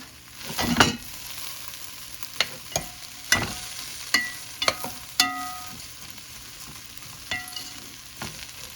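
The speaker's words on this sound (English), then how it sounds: "let's give it a stir" A spoon stirs rice and beans cooked in coconut milk in a pot, giving several distinct scraping and clinking strokes at an uneven rhythm over a low background hiss.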